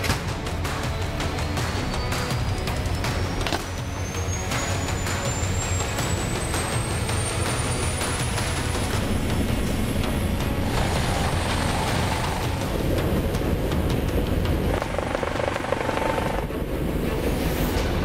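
An air ambulance helicopter thunders in flight, its loud, continuous rotor and engine roar filling the scene, with a rising whine running through it and no voices.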